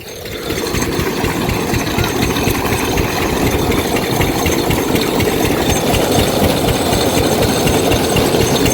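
A two-wheeled engine pumps water to irrigate a rice paddy, chugging loudly and continuously at close range with a rough, steady rhythm.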